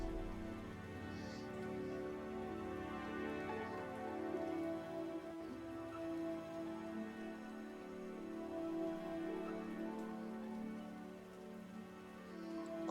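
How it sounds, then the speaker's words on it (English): Steady rain falls in the video game Symphony of the Machine, a soft, even patter over a low musical drone, constant and fairly faint throughout. "Rain. We need rain to make things grow."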